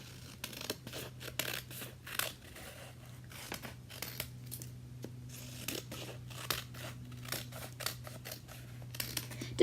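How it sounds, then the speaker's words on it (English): Scissors snip repeatedly through paper, cutting it into triangles for handmade paper beads; crisp close cuts come in quick irregular bursts over a steady low hum, with no talking. "Want to cut it into triangles."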